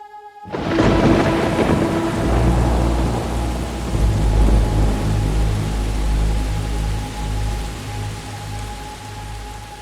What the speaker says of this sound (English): it starts raining as soon as we go there